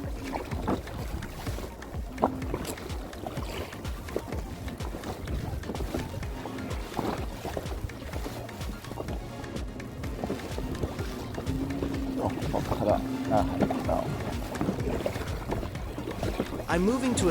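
Paddling an inflatable fishing kayak on open water near a beach, with steady splashing and water movement close by under wind noise, continuous throughout.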